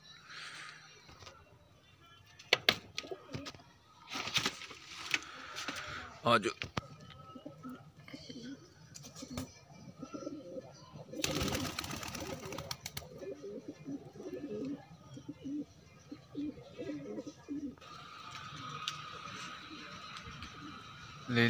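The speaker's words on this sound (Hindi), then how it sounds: "कबूतर उड़ना उड़ना स्टार्ट कर दिया इन्होंने" Pigeons coo faintly in the background while someone talks, with bursts of fluttering wings from birds taking off.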